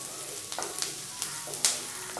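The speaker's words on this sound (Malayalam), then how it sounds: "സവാള എല്ലാം ഒരുപാട് വഴണ്ട് കിട്ടണമെന്ന് ആവശ്യമില്ല, ചെറുതായിട്ടൊന്ന് വാടി കിട്ടിയാൽ മാത്രം മതിയാവും." Chopped onions sautéing in a pan for a quick Kerala-style potato curry, a steady soft sizzle with brief stirring scrapes and a few sharper crackles, close and alone without talk.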